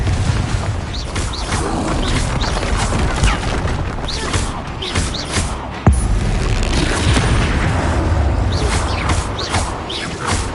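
Repeated explosive Confringo spell blasts in the Hogwarts Legacy video game, a dense barrage of booming impacts and crashes rolling continuously at loud volume with one sharper burst midway.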